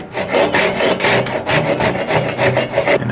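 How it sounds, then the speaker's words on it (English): A hand saw rips through wood while cutting dovetail toy blocks, with close, loud, rhythmic back-and-forth strokes, about six per second and a half, and no speech. "use the crosscut side of the saw to start the bite, then flip it over and rip cut your way to where you need to be"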